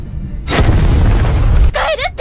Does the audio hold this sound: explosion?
yes